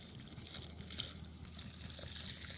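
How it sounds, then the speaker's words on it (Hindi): Water is poured from a container around the base of a newly planted papaya sapling in a prepared garden bed, a steady soft trickle and splash, faint and continuous with no speech. "अब इसके अंदर मैं पानी दूंगा, पानी डालो साइड में जड़ पे नहीं डालना"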